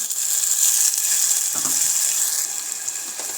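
Tomato gravy hits a sautéed mixture for Gujarati-style val (field bean) curry, giving a steady bright sizzle in the pan with a couple of brief stirring scrapes, close and moderately loud.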